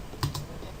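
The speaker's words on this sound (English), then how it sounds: "So in here then you want to type netsh int IP" A couple of quick keystrokes on a computer keyboard while a network reset command is typed on Windows, close and fairly soft against a quiet room background.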